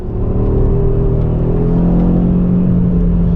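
An Audi RS3 on ceramic brakes and Trofeo R tires runs a hot lap at the Sachsenring circuit, its engine droning loud and steady with a rising whir from inside the cabin.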